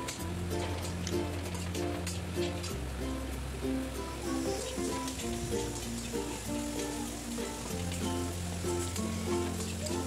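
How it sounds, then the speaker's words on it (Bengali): Chopped onions frying in oil with salt for a mutton curry, a continuous dense sizzle and crackle like steady rain, close and even throughout. "এই যে পেঁয়াজটা আমি ভালো করে ভেজে নিচ্ছি।"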